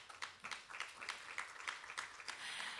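A university audience at a community dialogue on governance and leadership claps, a faint, distant patter of hands that stays steady throughout the short stretch.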